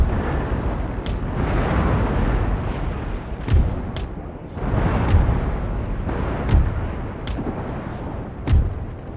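Naval ship cannons fire repeatedly in an Empire: Total War sea battle, heavy booming blasts recurring every couple of seconds over a continuous rumbling roar of battle noise, with no talking.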